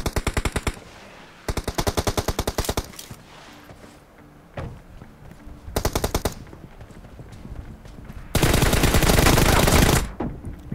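M416 assault rifle fire in a shooter video game team deathmatch, several loud rapid automatic bursts of evenly spaced shots, close to the listener, ending in a longer sustained burst with short gaps between volleys.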